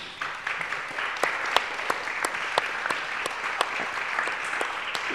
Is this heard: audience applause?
yes